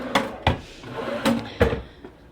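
A wooden bedside drawer in a hotel room is opened and shut, giving four sharp knocks and thumps spaced unevenly over a couple of seconds, close and fairly loud in a quiet room.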